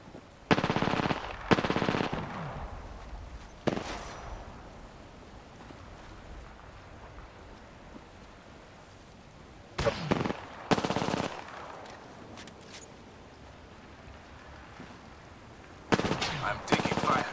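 Bursts of rapid automatic gunfire ring out in an Apex Legends match: several loud rattling volleys separated by quieter stretches of background game noise, with the last bursts returning near the end.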